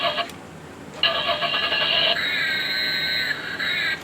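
A toy NKOK Ghostbusters Ectomobile RC car plays its engine-start sound effect: a bright synthetic electronic engine tone kicks in after a short blip and holds steady to the end, loud and close with no talking.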